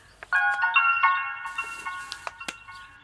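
Mobile phone ringtone playing a bright melodic tune, clear and close, lasting about three seconds.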